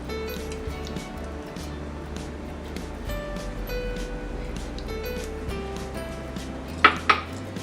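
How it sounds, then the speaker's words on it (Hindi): Ghee is whisked in a metal bowl, producing light repeated scraping and clinking of the utensil against the vessel, with two sharper clanks near the end and no talk. "हमने इसे 1 मिनट फेंट लिया है"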